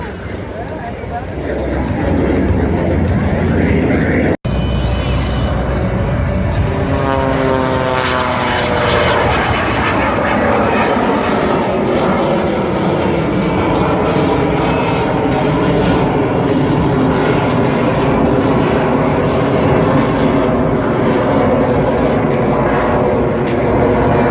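A jet aircraft at an air show, with an added engine of the kind found on a Lear 24 or T-38, climbs overhead. Its loud roar holds steady throughout, and its pitch sweeps as it passes, with crowd or announcer noise under it.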